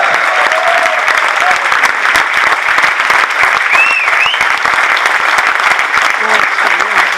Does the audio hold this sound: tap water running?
no